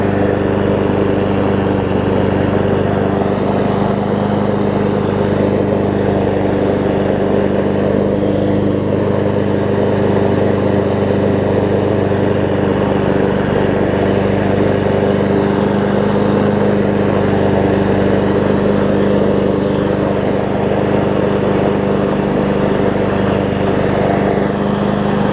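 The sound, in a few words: Honda push mower engine running after warm start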